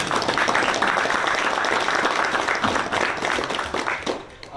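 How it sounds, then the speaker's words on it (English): A roomful of people applauds steadily at a memorial gathering, dense and even clapping that continues before tapering off near the end. "I believe all of you deserve a round of applause for that."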